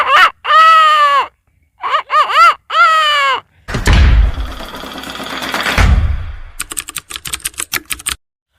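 A man imitates a rooster's crow with his voice: a run of loud, rising, choppy cries, then a rushing noisy burst and a stretch of rapid dry clicks.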